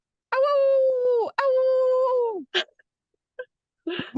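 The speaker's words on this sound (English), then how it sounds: "this dog barking" A dog lets out two long sustained howls in close succession, loud and near, followed by a few short yelps and whimpers trailing off.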